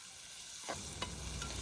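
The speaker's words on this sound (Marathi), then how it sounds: "कांद्याला जोपर्यंत लालसर कलर येत नाही तोपर्यंत कांदा तेलामध्ये परतून द्यायचा आहे चांगला" Chopped onions and green chillies hit hot oil after a brief quiet moment, setting off a sudden close sizzle that carries on with small stirring clicks.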